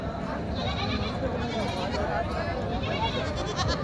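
Goat and sheep kids bleat in a busy livestock market in Parbhani, Maharashtra, their cries rising over steady crowd chatter and talk throughout.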